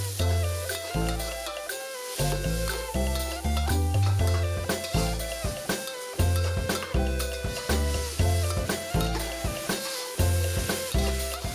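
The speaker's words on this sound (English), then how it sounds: "Fry the pork until golden, chopping it up into granules as it cooks." Ground pork stir-fries in a wok with Shaoxing-style Chinese cooking, giving a sizzle under loud background music with thumping bass notes, and no talking.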